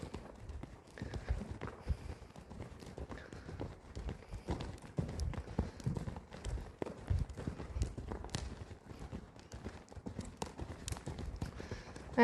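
A horse canters in a circle on a lead rope, producing steady rhythmic hoofbeats on soft ground at moderate distance, with a faint breathy rhythm and no clear talking.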